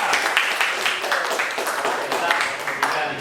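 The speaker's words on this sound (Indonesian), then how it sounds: "terus beri tepuk tangan untuk kelompok" Students in a classroom clap for a group that has just presented during a practice teaching lesson, giving a lively, fairly close round of applause with uneven individual claps and some voices mixed in.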